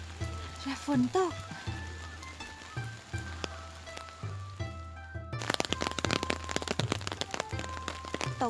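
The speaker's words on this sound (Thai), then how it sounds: "ตกหนักละ" Heavy rain in Kamakura, Japan: a steady patter swells midway into a dense, loud downpour of hissing drops on surfaces, with voices speaking briefly over it.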